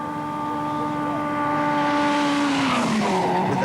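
A 1985 rally car, such as a Nissan 240 RS, runs flat out in 5th gear on new asphalt at the Acropolis Rally, a loud sustained engine whine that rises as it passes close, with tire noise building toward the end.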